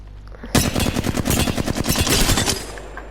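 A Flatline assault rifle firing in Apex Legends: after a quiet moment, a sustained full-auto burst of evenly spaced, punchy shots runs for about two seconds, loud and close, then stops abruptly.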